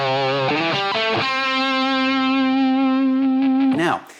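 A heavily distorted electric guitar, drive control on an amp modeler turned up to 10, plays a few quick notes, then holds one saturated, buzzing sustained note before it cuts off.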